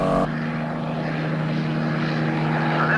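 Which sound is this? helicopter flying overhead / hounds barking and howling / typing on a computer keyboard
helicopter flying overhead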